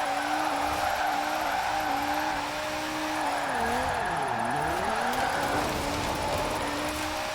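A car drifts in Forza Horizon 4, its tires squealing in a long, steady, wavering screech with a dip in the middle. The engine roars loudly and continuously underneath, and no one speaks.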